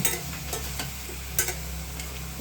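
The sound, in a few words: stirring spices in a frying pan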